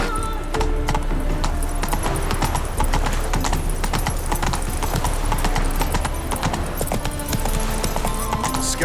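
Horse hooves gallop in a steady, rapid clip-clop rhythm through The Witcher 3, loud and continuous under dense game music and ambience, with a faint whinny possible.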